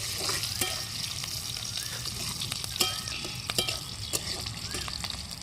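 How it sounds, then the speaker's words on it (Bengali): Sliced onions sizzle steadily in hot mustard oil for a fish curry, with the broad hiss broken by sharp scrapes and taps of a spoon stirring the pan, close and even throughout. "দেখো প্রথমে পেঁয়াজ সরিষা তেলে দিয়ে ভাজি ভাজি করে নিচ্ছি।"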